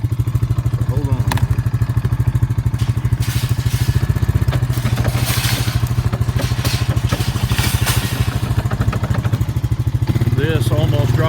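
A Honda four-wheeler ATV engine runs loud and steady close by on a farm while calves are being weaned, with clatter and thumps over the drone and someone talking over it.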